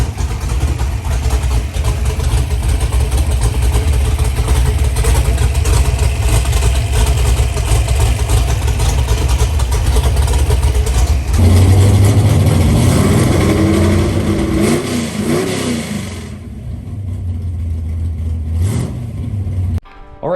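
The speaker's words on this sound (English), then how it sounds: "the Mustang's officially running again" A Ford Mustang engine runs loud and close, rumbling steadily at idle before it revs up mid-clip, then drops back to a lower idle and cuts off abruptly near the end, with no talking.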